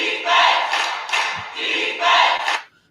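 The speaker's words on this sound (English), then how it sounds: "I got to be louder than the crowd there" A stadium crowd roars on an NFL broadcast of the Tampa Bay Buccaneers against the Chicago Bears, loud cheering rising and falling in several swells before cutting off abruptly.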